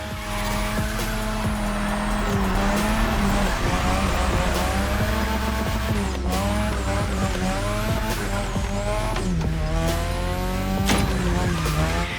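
A Toyota Supra drifts around a Japanese drift track in The Crew Motorfest. A loud, steady engine roar runs under repeated tire squeals and skids throughout.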